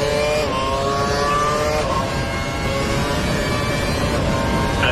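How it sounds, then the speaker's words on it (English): An F1 car engine screams at full revs during the Abu Dhabi Grand Prix in F1 2012, heard onboard. A loud, piercing, sustained whine climbs in pitch, dips briefly at a shift, then climbs again. "He's running full revs, maximum power"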